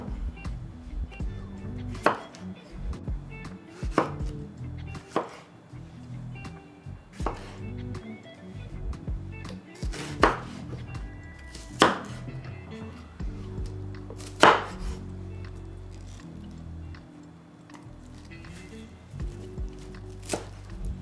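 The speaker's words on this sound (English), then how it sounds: "We are just going to roughly chop them" Vegetables for a chunky salsa roughly chopped with a knife on a board, a slow irregular series of sharp thuds spaced a second or two apart over a low background hum, close and clear, no talking.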